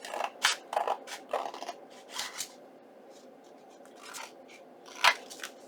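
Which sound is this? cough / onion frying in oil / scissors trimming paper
scissors trimming paper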